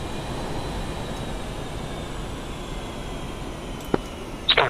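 Steady low engine drone of a MiG-21 suffering engine failure in the DCS flight simulator, a continuous rumbling hum with a few brief sharp clicks and bursts near the end.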